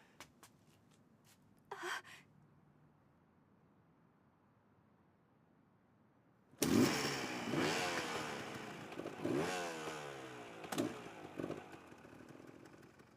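A motorcycle engine bursts in suddenly after a quiet stretch, revving loud and close with rising and falling pitch sweeps, then continuing to roar for several seconds.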